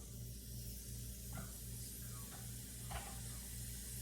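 Chopped onions frying in a pan as the first step of a vegan omelette, a steady close sizzle with a faint low hum underneath and a few soft stirring scrapes, no talking.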